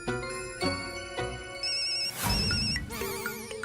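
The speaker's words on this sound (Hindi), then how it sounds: "चाचा जी जेठालाल बहुत जिद्दी है, जब तक आप फोन नहीं उठाएंगे वो फोन करता रहेगा।" A phone ringtone plays loudly and repeatedly in a bright, looping melody, with other sounds briefly washing over it.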